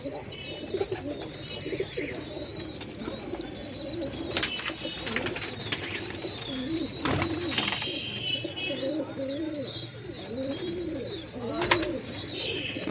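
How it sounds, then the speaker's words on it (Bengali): Desi and Giribaj pigeons for sale coo repeatedly in soft, rolling calls, several birds overlapping nearby, with occasional chirps, brief wing flaps and faint voices in the background. "সবই দেশি পায়রা, গিরিবাজ পায়রা আছে।"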